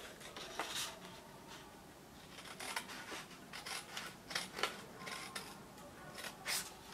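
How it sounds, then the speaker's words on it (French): Scissors cut through card paper in a series of quiet, crisp snips spaced irregularly, close and alone with no talk. "Vous vous munissez ensuite d'une paire de ciseaux et vous allez venir découper en partant du bas jusqu'à la petite marque que vous avez réalisée"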